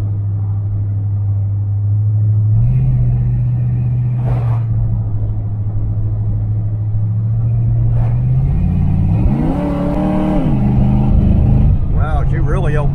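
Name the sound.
1977 Chevrolet Malibu Classic engine revving during test drive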